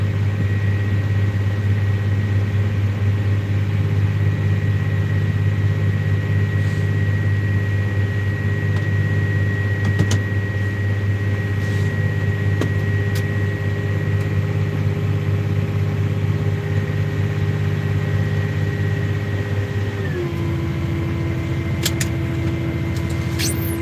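A combine harvester's engine drones steadily and close during a corn harvest, a constant low hum with a whining tone that drops slightly in pitch near the end, with no talking.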